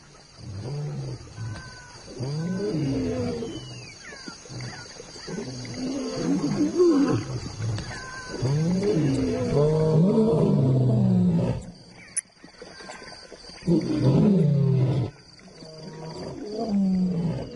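Male lions at a night-time waterhole give deep, rumbling roars and grunting calls in repeated bouts, loud and close, with short quiet gaps between them and no talk.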